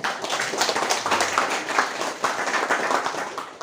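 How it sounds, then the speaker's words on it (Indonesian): Audience clapping for a girl named Lulu at a religious gathering about caring for orphans, a short burst of dense, close hand claps with a few voices mixed in. "tepuk tangan untuk Lulu"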